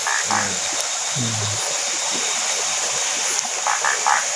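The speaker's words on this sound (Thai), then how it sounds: "เสียงกบ เสียงลำธาร เสียงกบ เสียงเขียดร้อง" Frogs croak in short, low, buzzing calls beside a rushing forest stream during a cold-season night camping in the woods, their bursts rising over the steady, close hiss of running water.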